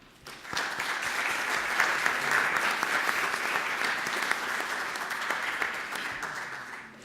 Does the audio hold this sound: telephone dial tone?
no